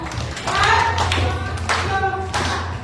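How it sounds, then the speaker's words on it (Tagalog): Congregation at a Foursquare Gospel Family church clapping in unison, several sharp broadband claps in a loose rhythm over a low hum, close and fairly loud. "Isang limang palakpak, alam na palakpak para sa kanila."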